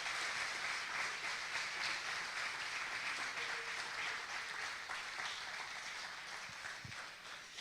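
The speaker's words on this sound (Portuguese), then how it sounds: "Você pode aplaudir Jesus, irmão?" Congregation in a church applauding steadily as a broad, even wash of clapping lasting throughout, moderately distant and softening slightly toward the end.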